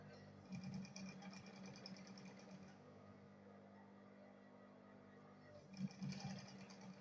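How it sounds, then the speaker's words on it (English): A sewing machine stitches the layers of a double face bag, its rapid mechanical whir running in two bursts at the start and end with a steady lower hum between, close and fairly quiet. "Now I'll sew it together. Let me go ahead and sew it together first."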